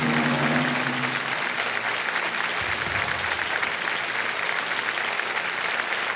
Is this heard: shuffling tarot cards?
no